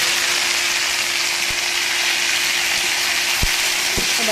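Taro leaves fry in a hot pan, a loud, steady hiss throughout with a faint hum and a few sharp knocks from a utensil against the pan.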